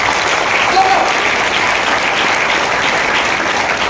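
An audience at a business plan presentation breaks into loud, sustained applause, a dense wash of clapping that continues without pause throughout.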